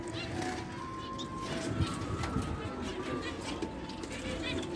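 Pigeons or doves cooing in breeding nests that hold chicks, a steady murmur of soft calls filling the aviary throughout.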